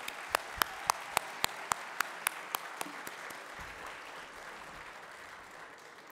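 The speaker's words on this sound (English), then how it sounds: "Let us give our sensational student athletes another round of applause." Audience applause for student athletes at a National Signing Day event: a few distinct loud hand claps ring out, then broad sustained clapping from the crowd continues steadily to the end, with no talking.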